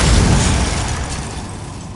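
Incendio fire spell blast in the Hogwarts Legacy video game, a loud, close booming burst that hits hard at once and then fades slowly over about two seconds.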